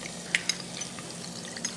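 Garlic sizzling in hot oil in a pan during an Italian cooking class, a steady soft crackle with a few sharp pops and small clinks, close and moderately quiet with no talk.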